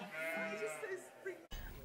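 Sheep bleat on a working sheep farm near Montreuil, France, with wavering, drawn-out calls filling most of the moment before a brief break and a rougher burst at the end.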